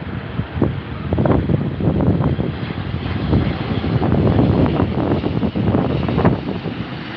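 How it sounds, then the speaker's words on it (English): A Boeing 787 Dreamliner landing at Heathrow gives a sustained rumbling jet roar, steady and fairly loud with gusty wind buffeting the microphone throughout, no voices. "Let's see how gently they can get that down with a nice little Dreamliner this afternoon."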